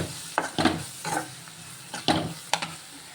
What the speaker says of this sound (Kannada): ಇದೆಲ್ಲನೂ ಚೆನ್ನಾಗಿ ಫ್ರೈ ಮಾಡಿಕೊಂಡು